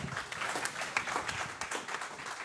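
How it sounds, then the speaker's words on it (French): Applause from the audience at the Trophées SEPTUORS du Gers 2020 awards ceremony, a soft, steady patter of many hands clapping, heard from a distance and fairly quiet throughout. "On peut, vous applaudir une nouvelle fois"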